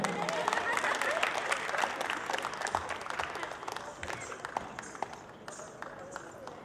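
Audience applause at a Saraswati Puja cultural programme, a dense, continuous clatter of many hands clapping from a crowd, fairly loud and steady, thinning slightly toward the end.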